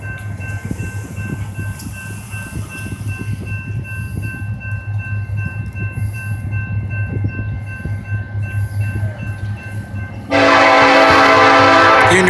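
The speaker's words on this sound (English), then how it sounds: "Sounds like an SD70 Ace." A Norfolk Southern westbound intermodal train led by a Union Pacific SD70ACe locomotive rumbles close by with a steady diesel drone, then its horn blasts loud and sustained near the end.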